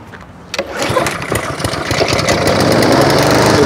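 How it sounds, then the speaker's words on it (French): A mulching lawn mower without a grass bag starts with a sharp pull, then its engine catches and rises into a loud, steady, close drone with no talking. "Cette tondeuse est faite pour faire du mushing."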